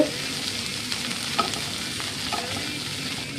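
Cooked green gram being sautéed in ghee while making sukhiyan, a steady close sizzle with scraping stirs of a spoon through the pan and a few brief clinks, no voices.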